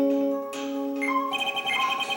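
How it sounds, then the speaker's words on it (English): Electronic tones from a metal detector in Phoenix Wright: Ace Attorney – Trials and Tribulations: a sustained beep that shifts pitch and rises into pulsing, warbling signal tones as it detects something metallic. "That's the sound of the metal detector signal bouncing off of something metallic."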